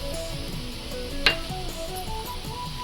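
Semolina and ragi flour roast and are stirred in a pan over a low flame, giving a soft, steady sizzle with a brief sharp scrape of the spoon on the pan partway through.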